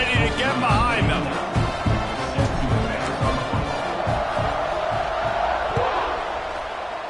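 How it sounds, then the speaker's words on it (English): Stadium crowd noise from the football video game Madden 26, a broad, continuous roar with swelling cheers, heard under a play-by-play commentator's voice. "this crowd now ready to get behind them"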